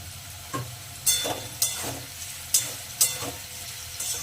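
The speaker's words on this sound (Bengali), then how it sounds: "আমার আলুটা তুলে নেব ভেজে।" Potatoes frying in a pan give a steady low sizzle, broken by sharp crackling pops and spits every half second or so, close by with no talk.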